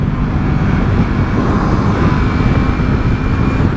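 A car engine drones at a steady, loud low pitch while cruising in fifth gear, a constant rumble of engine and road noise with no clear change of gear.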